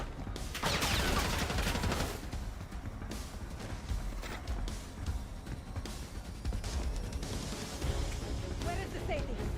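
Video game gunfire, a sustained fusillade of rapid shots and ricochets, loud and near, running nearly the whole stretch with voices calling out over it.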